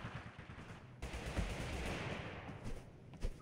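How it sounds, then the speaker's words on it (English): Distant gunfire in the video game TABG, a steady muffled crackle of far-off shots running through the clip with a slightly louder pop near the end, no voices. "There seems to be gunshots right there, and then gunshots lower down."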